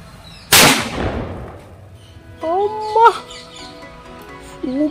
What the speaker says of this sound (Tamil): சூப்பராக பேப்பர் வெடிக்குது